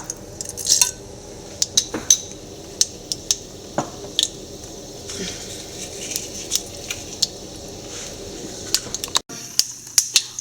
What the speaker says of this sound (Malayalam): എണ്ണ ചൂടായിട്ടുണ്ട് നമുക്ക് ആവശ്യത്തിനുള്ള കടുക് ഇട്ട് കൊടുക്കാം